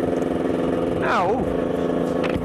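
Two-stroke moped riding through a wet city, its engine droning steadily up close, with a brief sweeping rev or passing vehicle in the middle, while a voice talks over it.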